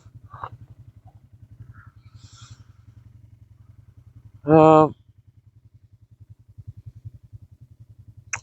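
A low, steady ATV engine putters along a bumpy trail with faint clatter and rattles throughout, and a short spoken remark rises briefly over the idle-like drone.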